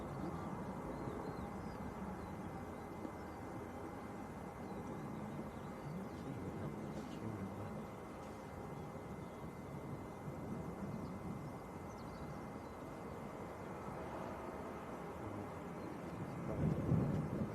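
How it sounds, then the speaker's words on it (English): A Ryanair airliner bound for Parma taxis out at Leeds Bradford Airport, heard as a steady, fairly distant jet rumble that stays even throughout and swells briefly louder near the end. "Right, Ryanair to Parma taxiing out now."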